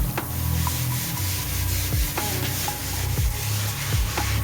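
A wooden church door is rubbed to remove leftover oil, with repeated rough scraping strokes in an irregular rhythm, close and fairly loud, with no speech.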